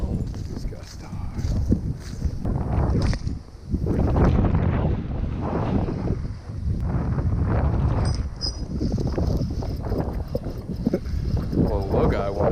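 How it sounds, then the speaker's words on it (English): Strong gusts of wind batter the microphone outdoors by the water on a bass fishing trip, a loud continuous rumble that surges and fades, with someone talking over it throughout. "he wasn't kidding about those 50-mile-an-hour gusts"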